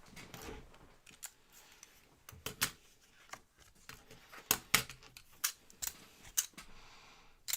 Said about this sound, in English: I got to get my fancy scissors.